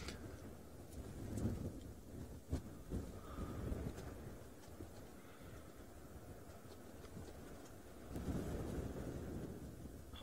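Wind rumbles and gusts against the microphone, swelling into stronger blasts at times, with a faint sharp knock partway through.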